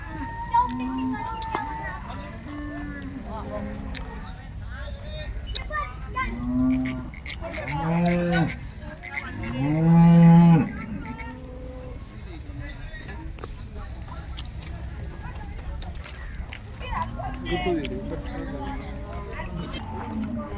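HF cows moo several times at a cattle market, some calls long and loud, with people talking faintly in the background throughout.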